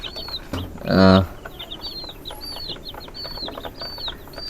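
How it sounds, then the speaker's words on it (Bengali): Tiger chickens on a small farm cluck softly while eating feed from a hand. One loud squawk sounds near the start, then a steady run of light chirps and clucks over a constant background hiss. "আমার টাইগার মুগরি, এর আগে একটা ভিডিও নিয়ে আপনাদের সামনে এসেছিলাম।"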